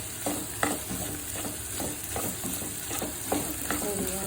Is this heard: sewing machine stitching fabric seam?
no